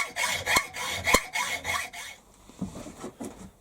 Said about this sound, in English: it's a pleasure to use a new hacksaw blade. And I'll go down to my line on the side.